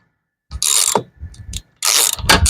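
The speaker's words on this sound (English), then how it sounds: "I'm going to tighten these up real tight" A ratchet tightening the bolts that hold the carburetor on a Cub Cadet lawn mower engine, two bursts of rapid metallic clicking with a few softer clicks between, close and loud.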